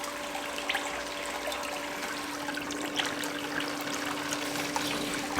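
Steady water rushes and trickles into a gold prospecting sluice with a large drop riffle at the inlet, a continuous close splashing flow under a faint constant tone.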